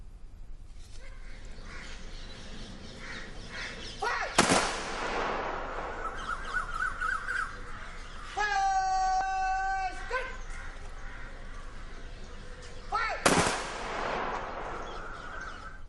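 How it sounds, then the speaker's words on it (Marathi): Soldiers fire a gun salute volley at a military funeral: two loud, sharp reports about nine seconds apart ring out over a low outdoor murmur, with a brief sustained tone heard between them. "जवानांनी बंदुकीच्या फैरी झाडून त्यांना निरोप दिला"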